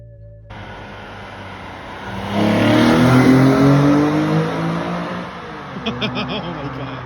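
Infiniti G37 engine with new air intakes revs up from idle to a loud, deep sustained roar, then settles back with some rattling clicks near the end; close and strong, no talk over it.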